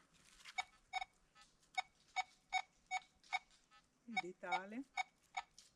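A Nokta Legend metal detector gives a series of short, bright electronic beeps at a steady pace over a thimble. A voice speaks briefly partway through.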